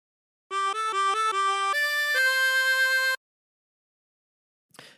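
A tremolo harmonica with 24 holes plays a short phrase of a song, about a dozen clear sustained reedy notes stepping up and down over roughly three seconds, followed by silence and a faint brief rustle.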